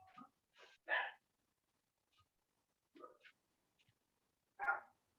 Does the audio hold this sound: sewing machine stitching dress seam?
no